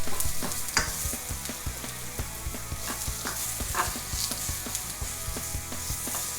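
Onions sizzle steadily as they brown in a hot pan for Thai egg noodles, with repeated scraping and stirring clicks throughout and no talking.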